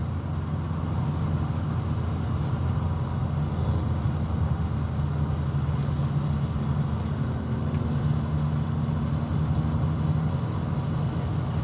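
Cabin drone of a 1975 VW Passat type 32 with a 1.3 engine on the move, a steady low engine hum and road rumble that stays even and continuous throughout, with no one speaking.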